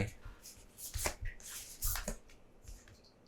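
Tarot cards are shuffled and drawn during a reading, giving soft papery riffles, slaps and flicks in uneven bursts, close and fairly quiet.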